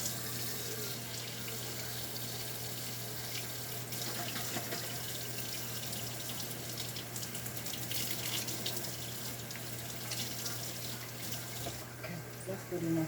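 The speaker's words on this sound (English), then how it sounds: "I just want to rinse it and put it in recycle" A kitchen tap runs steadily as water rinses out an empty coconut can, a continuous close splashing hiss with faint clatter of the can under the stream.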